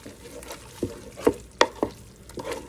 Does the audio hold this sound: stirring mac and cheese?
yes